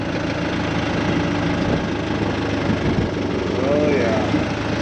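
A truck engine idles steadily on a farm as it is about to be moved, a continuous low rumbling drone with a faint knocking vibration, loud and close throughout.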